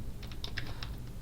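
Several quick keystrokes on a computer keyboard, a short irregular burst of light clicks close up over a faint steady room hum, with no one talking.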